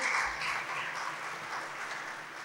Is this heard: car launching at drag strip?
no